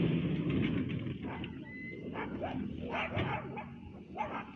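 Dogs bark and whimper at moderate distance, in scattered yips and short barks over a steady outdoor background.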